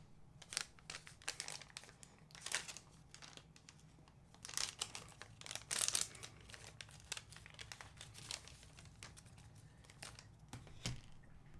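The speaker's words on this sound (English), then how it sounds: "remove the testing card from the pouch" A COVID test card is pulled from its foil pouch, making faint, intermittent crinkling and tearing rustles in short bursts against a quiet room hum.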